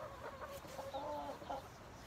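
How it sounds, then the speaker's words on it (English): Chickens cluck softly in a short run of throaty calls, fairly faint, with no talking. "These chickens are really rude."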